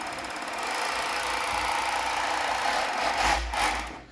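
A 4-thread overlock sewing machine runs steadily as fabric is fed under the presser foot, a close continuous mechanical whir that swells briefly near the end and then stops, with no talking.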